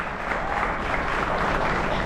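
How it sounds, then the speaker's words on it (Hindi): An audience at a university educational meet applauds to welcome a guest speaker, a dense, loud, continuous wash of clapping filling the short moment. "मैं चाहूंगा एक बार पूरा सदन जोरदार तालियों के बीच आवाज दे रोहित वाधवान जी को।"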